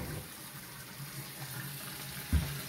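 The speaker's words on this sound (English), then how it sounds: "I'm gonna wash our hands real quick so I can grasp the knife." A kitchen tap runs steadily while hands are washed before handling meat, an even close hiss of water throughout, ending with a short splash or knock.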